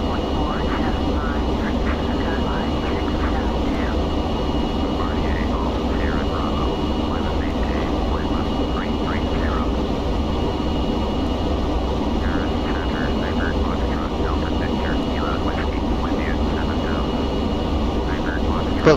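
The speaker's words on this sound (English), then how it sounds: "From the cockpit view at the moment, you can see the English Channel now appearing in the distance." Steady, even aircraft engine drone in the cockpit of a Flight Simulator X airliner flight from Pisa to Birmingham, a constant loud hum that never changes, with someone talking over it throughout.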